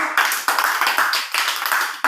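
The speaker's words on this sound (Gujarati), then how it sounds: "એક તાળી પાડી દો" Young children in an Indian preschool class clap together in loud, rhythmic unison bursts, a quick burst of claps close by lasting about two seconds.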